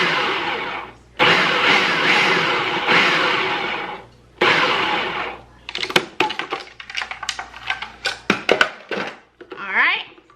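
A food processor pulses cold butter into a crumble topping for sweet potato casserole, giving three long, loud bursts of whirring followed by a rapid run of short, choppy pulses and rattles close by.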